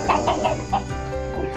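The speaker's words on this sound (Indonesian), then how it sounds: "Dari suara kokoknya biasanya kalau pelung" A pelung chicken at an ornamental poultry farm calls up close, a short run of throaty, rhythmic clucking and crowing notes over a busy farmyard background, with no one talking.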